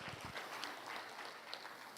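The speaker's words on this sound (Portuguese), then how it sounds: "Dá um aplauso bem forte à palavra de Deus." Church congregation applauding during a family worship service, steady dense clapping from many hands, moderately distant and fairly quiet, with no speech over it.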